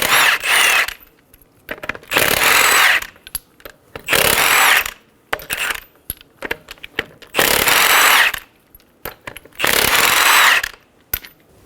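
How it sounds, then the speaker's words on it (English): A power impact tool spins lug nuts off a Toyota Camry wheel with a 21mm socket. It runs in five loud buzzing bursts of about a second each, with clicking and rattling of nuts and the socket in between. "remove the lug nuts"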